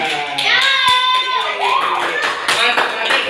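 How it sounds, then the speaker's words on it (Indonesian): A class of students claps together, sharp overlapping hand claps in quick bursts, mixed with lively children's voices calling out over the applause. "Betul, Kak, tepuk tangan"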